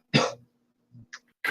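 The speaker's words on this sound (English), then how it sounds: "Cough, cough." A short throat-clearing cough near the microphone, followed by a softer grunt and a quick breathy burst, during a tabletop roleplaying game session.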